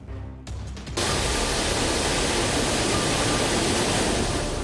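Water from the Khadakwasla dam gushes into the Mutha river at 27,000 cusecs, a loud, steady roar of rushing water that surges in abruptly after a brief quieter start and stays dense and unbroken, with no voices.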